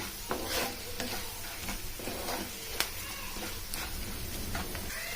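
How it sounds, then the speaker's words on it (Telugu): Onions sizzle loudly in a hot pan while a utensil stirs and scrapes through them, with occasional sharp clinks against the pan. "ఇప్పుడు మనం ఆనియన్, ఉల్లిపాయ ముక్కలు కాస్త ఎర్రబడే వరకు కలుపుకొని పెట్టుకోవాలి"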